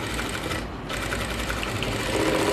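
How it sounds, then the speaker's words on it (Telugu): A home sewing machine stitching a cloth face mask runs steadily up close, a continuous rapid needle whir with only a brief dip partway through. "ఇవి రెండింటిపైన ఇప్పుడు కుట్టు వేసుకోవాలి."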